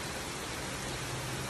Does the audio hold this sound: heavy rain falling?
yes